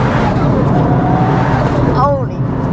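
A Mitsubishi Evo 9 four-wheel drive car drives fast on a back road, heard from inside as a loud, steady engine and road roar, with people talking over it.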